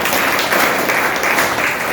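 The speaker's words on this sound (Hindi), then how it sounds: "उसके लिए जोरदार ताली।" An audience bursts into loud, dense applause that fills the whole two seconds, a steady wash of clapping hands with no voices on top.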